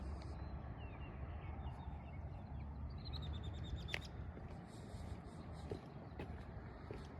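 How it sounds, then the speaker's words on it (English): A few faint, high bird chirps come through over a steady rumble of passing traffic, distant and intermittent. "This bird chirping sounds like a sinkhead bird."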